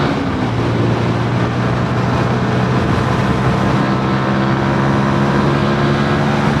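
A 2022 MASH X-ride 125 motorcycle engine pulls steadily, its droning hum rising and falling slightly as it climbs through the gears under constant wind rush.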